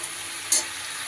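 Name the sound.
spinach cooking on high flame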